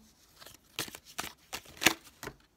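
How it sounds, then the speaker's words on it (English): A tarot deck is shuffled gently by hand, giving soft, uneven bursts of riffling card flutter and light slaps, close and quiet, with no talk. "Gentle shuffle."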